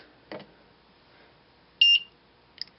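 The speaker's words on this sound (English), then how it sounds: "that beep says that timeout." A digital combination lock circuit wired to an Arduino gives a sharp electronic timeout beep, a short steady tone standing out between a faint click before it and a brief chirp after.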